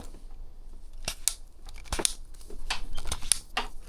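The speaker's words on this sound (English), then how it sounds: "Really solid quality clicking across the board." Plastic nozzles for a Kaiweets KPW-F1 pressure washer snap into place and are handled up close, giving a series of crisp, irregular clicks and light plastic rustles.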